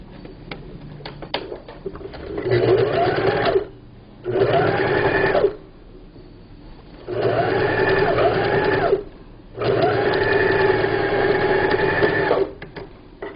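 A sewing machine stitches a 1 cm seam on a fabric cover for a low Korean dining table, running close and loud in four sustained bursts of whirring, buzzing hum with brief quiet pauses between.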